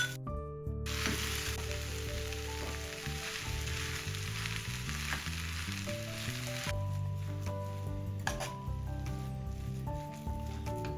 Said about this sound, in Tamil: இப்போ நீங்கள் இதுக்குள்ளே எடுத்து வச்சிருக்கிற இந்த மீனையும் நாங்கள் மசிச்சு வச்சிருக்கிற இந்த உருளைக்கிழங்கையும் போட்டு நல்லா கலந்து விடணும்.